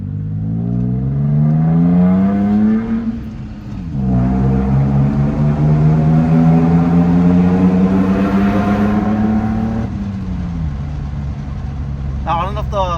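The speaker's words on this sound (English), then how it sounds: "There is a difference in the sound of the engine." A tuned Toyota Tacoma engine revs up and settles back twice, a loud, throaty motor heard close by with strong low harmonics rising and falling.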